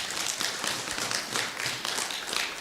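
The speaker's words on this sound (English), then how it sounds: "Let's clap for that." Conference attendees at a regional policy dialogue clap together in a steady, moderately loud patter of many hands, even and unbroken for a few seconds.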